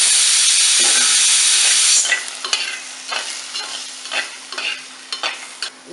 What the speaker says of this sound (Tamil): இப்போ தக்காளி வெங்காயம் பச்சை மிளகாய் எல்லாம் போடுறேன்